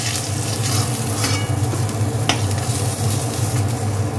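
Pieces of boal fish fry in hot oil with a dense, continuous sizzle, loud and close, with small crackles and a brief utensil scrape partway through.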